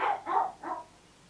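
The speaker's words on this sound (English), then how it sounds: "he's losing his bark because he barks so much" A dog that is losing its voice from constant barking lets out three quick, hoarse barks close by, each a short raspy burst, then falls quiet.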